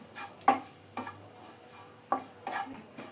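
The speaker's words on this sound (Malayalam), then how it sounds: "ഇതിലോട്ട് ഞാനിനി 1/2 കപ്പ് തേങ്ങ കൂടെ ചേർത്ത് കൊടുക്കുന്നുണ്ട്. ഇതും കൂടെ ഒന്ന് മിക്സ് ചെയ്ത് കൊടുക്കാം." Grated coconut mixed into an onion masala for onion puttu, heard as a few scattered spoon scrapes and taps against the pan over a quiet, low sizzle with no talking.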